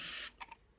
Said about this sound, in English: I'm trying to mist but spray the top of the enclosure